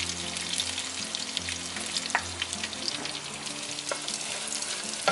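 Anchovies, about 100 g, sizzling in garlic-infused oil in a pan for spicy stir-fried anchovies, producing a steady dense crackle throughout with a low background hum, a few sharper pops and stirring clicks, and no talking.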